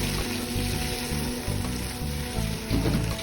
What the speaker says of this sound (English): Now I'm going to add my blended pepper mix.